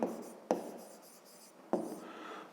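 Pen writing on paper during a fifth-grade maths exercise, soft scratchy strokes broken by two sharp taps of the pen, close and quiet.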